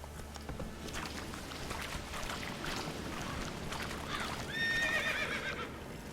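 Roach, Geralt's horse in The Witcher 3, galloping through Crookback Bog with steady hoofbeats under ambient noise, ending in a clear, fairly loud whinny near the end, no talk.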